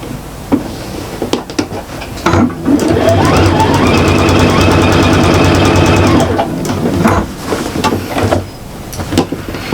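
A sewing machine stitches the side seam of a shopper bag thick with fabric and foam, running in one steady, loud burst of about four seconds, with handling clatter before and after.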